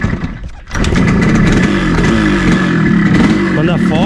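A flooded Yamaha RD135 two-stroke motorcycle engine catches and is revved, its loud, close, raspy buzz rising and falling after a brief quiet moment, with someone talking over it.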